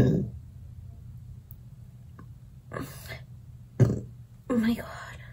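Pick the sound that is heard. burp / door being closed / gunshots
burp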